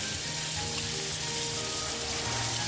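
Onions sautéing in hot oil with cinnamon, cloves and cardamom in a pan, giving a steady, close crackling sizzle that holds even throughout, with no voices.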